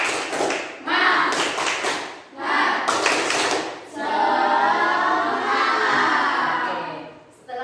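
A class of schoolchildren performs a rhythmic group clapping routine, sharp claps in quick patterned bursts with pauses, followed by a stretch of children chanting loudly together in unison.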